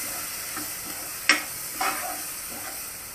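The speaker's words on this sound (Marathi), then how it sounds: "2 चमचे आलं लसूण पेस्ट आपण घेतली होती ती आपण ह्याच्यामध्ये परततो." Ginger-garlic paste sautés in a pan for a black peas curry: a soft continuous hiss of frying broken by two sharper spoon scrapes near the middle, up close.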